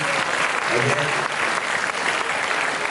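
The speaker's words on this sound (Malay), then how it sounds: "Berikan tepukan untuk panel kita yang pertama, Ustaz Amin." Audience applause fills a hall at a Maal Hijrah celebration, a dense, steady wash of clapping from many hands throughout, loud and close, with faint voices mixed in.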